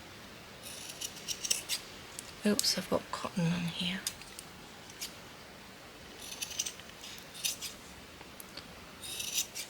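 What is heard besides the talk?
big scissors cutting fabric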